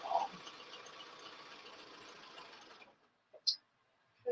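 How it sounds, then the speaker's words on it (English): A sewing machine stitches a curved seam on stretchy leggings fabric, running in a steady continuous whir for nearly three seconds before stopping, followed by a few faint clicks and taps. "I'm going to backstitch just to secure the thread"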